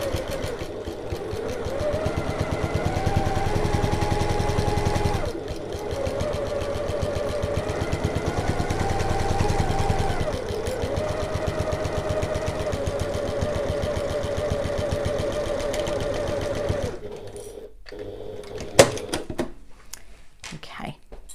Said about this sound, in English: Now I'm just back stitching over that folded bit as well inside